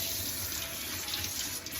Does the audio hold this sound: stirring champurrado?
no